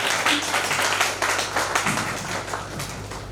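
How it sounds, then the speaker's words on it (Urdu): An audience at an Urdu poetry gathering marking one year of Fakhr-e-Hindustan claps together in a fairly faint, steady patter that tapers off slightly toward the end. "آپ لوگ تالیاں بجا کر بتائیے کہ کیسے جو ہے 1 سال پورے ہوئے ہیں"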